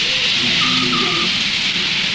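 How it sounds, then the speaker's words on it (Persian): Steady heavy rain hisses continuously with a low rumble of thunder underneath, loud and close throughout, with faint tonal sounds briefly above it. "بارون میاد."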